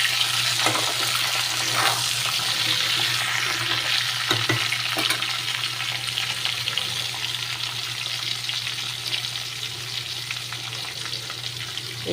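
Taro stolons frying in oil in a pan, a dense continuous sizzle with occasional scrapes and clinks of stirring over a low steady hum.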